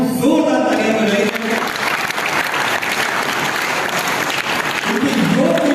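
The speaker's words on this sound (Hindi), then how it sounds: "जोरदार तालियां बजाइए।" Loud, sustained audience applause fills a hall at a Zee Samvad Real Hero event, dense and continuous throughout with faint crowd noise underneath.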